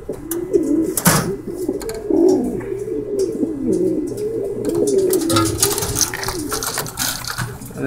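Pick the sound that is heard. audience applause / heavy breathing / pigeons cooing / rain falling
pigeons cooing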